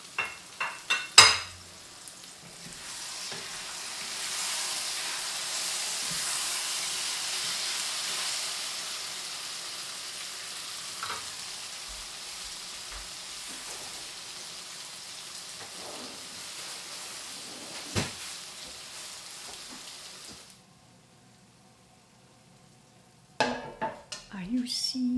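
Vegetables sizzle steadily in a pan while being stirred, a soft hissing crackle with occasional scrapes and clicks, broken off near the end by a brief pause and some handling noise.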